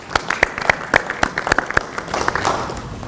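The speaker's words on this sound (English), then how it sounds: "let's give a warm round of applause to our speakers" Audience applause for speakers at a talk event on redesigning education, scattered sharp claps building into a fuller patter of clapping over about three seconds, fairly close, with faint voices mixed in.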